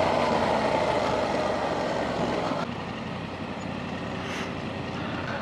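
A 2024 Yamaha R7 motorcycle engine drones steadily while riding, a loud, continuous roar blended with wind noise and no talking.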